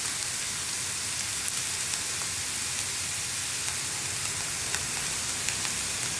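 Onions, green chilies and curry leaves sizzle in a pan as they are stirred, a steady close hiss with faint ticks and pops throughout.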